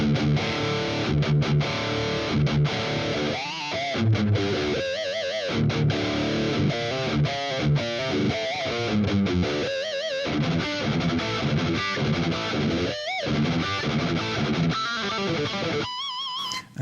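A heavy distorted electric guitar riff with chorus off, dense and saturated, with choppy palm-muted bursts and brief gaps, played loud and continuous without any voice.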